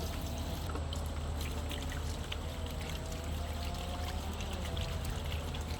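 Water from a homemade garden fountain splashes and pours steadily at close range, a continuous even rush with no pauses and no talking.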